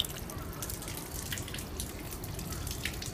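A mini brushless 12 V DC pump, model JT160, running submerged in water, giving a steady close gurgle of moving and splashing water with light dripping, continuous and fairly even with no talk.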